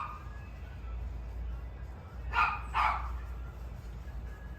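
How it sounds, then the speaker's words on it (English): A neighbour's dog next door barks outdoors, giving two short barks in quick succession against a quiet background hum, at moderate distance and fairly faint. "Got a dog next door that wants to bark because my dog is out here too."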